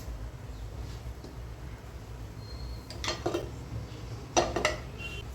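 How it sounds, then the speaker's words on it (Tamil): A cooking pan is set on a stovetop before oil goes in, giving a couple of close metallic clanks and clatters midway and near the end over a quiet room hum. "இப்போ ஸ்டவ் ஆன் பண்ணிவிட்டு ஒரு பேன் வச்சுட்டு ஆயில் வந்து ஊற்றிட்டு"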